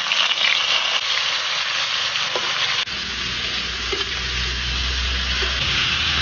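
Crab halves coated in starch pan-fry in plenty of oil in a rusty iron wok, a loud steady sizzle throughout with a brief stir or clatter partway and a deeper frying roar after.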